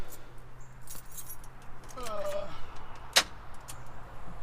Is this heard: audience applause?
no